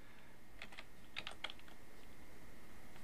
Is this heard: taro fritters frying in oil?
no